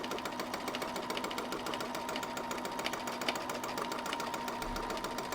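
A home sewing machine runs continuously while free-motion quilting a French press cozy, a rapid, even mechanical chatter of stitches that stays close and steady throughout, with no one speaking.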